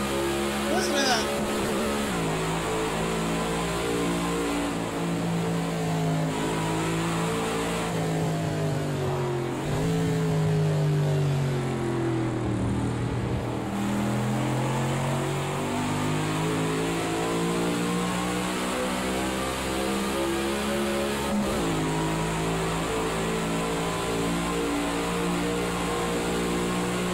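A racing car engine in the video game Project Cars revs hard and high toward a very high redline, pitch climbing and dropping repeatedly as gears shift, loud and continuous with a synthetic, game-like tone.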